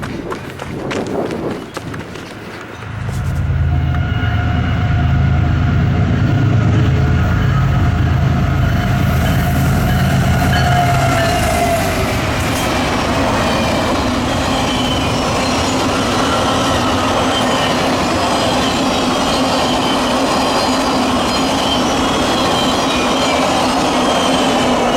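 A passenger train passes a depot at close range, a loud steady rumble of railcars and clattering wheels with some squealing, rising abruptly after a quiet start and continuing without pause.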